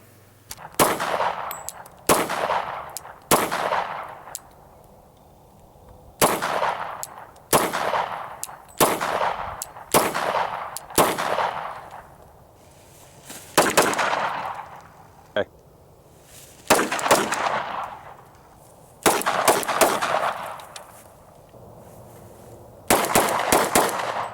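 A Glock 27 subcompact pistol in .40 S&W fired at a shooting range: loud, sharp gunshots with ringing decays, some single and some in quick pairs or strings, spaced irregularly across the clip with short quiet gaps, no talking.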